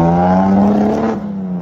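A Datsun 240Z's L28 inline-six revs hard close by, its steady high-pitched drone roughening and breaking up near the top before easing off toward the end.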